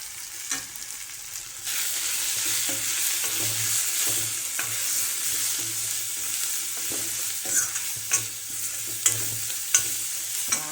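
Turmeric, garam masala and homemade chili powder roasting in an iron kadhai for a village-style potato curry give a steady, loud sizzle, with spatula stirs scraping the pan at irregular intervals near the end.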